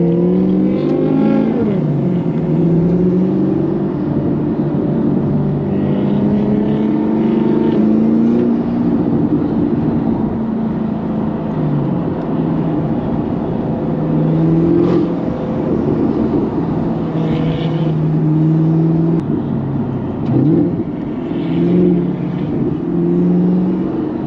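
Nissan GT-R sports cars cruise city streets, a loud steady engine drone with rising and falling revs and gear changes throughout, continuous and close with no talking.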